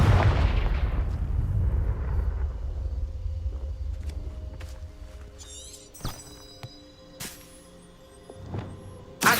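Confringo fire spell explosions in Hogwarts Legacy open with a loud booming blast that rumbles and fades, followed by a few sharper cracks and impacts spaced out over the next several seconds.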